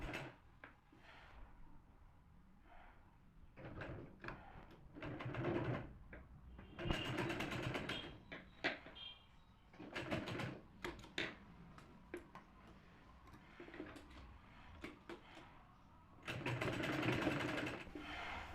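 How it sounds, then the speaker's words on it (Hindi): A sewing machine stitches a flared frock in short, repeated bursts of rapid mechanical whirring, separated by brief pauses. The sound is close but fairly quiet. "तो चलिए इसमें सिलाई लगा लेते हैं।"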